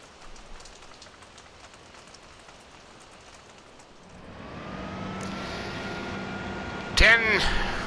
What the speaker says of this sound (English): And it is still raining.